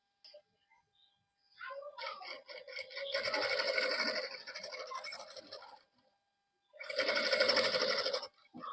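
A sewing machine stitches a cotton A-line kurti in two close bursts of rapid, buzzing needle strokes, with brief pauses and handling sounds in between.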